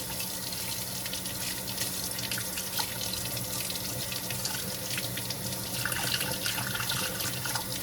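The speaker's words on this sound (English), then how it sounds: "I should make a full sink of water" Water runs steadily from a kitchen tap into a sink, a continuous close hiss and splash that holds at an even level for several seconds, with no talking.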